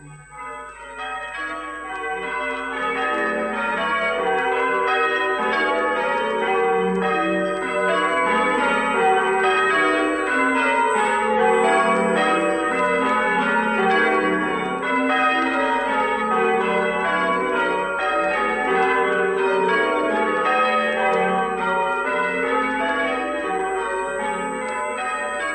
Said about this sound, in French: Sonne, sonnez, sonne, allez donc mes belles cloches, ding, ding,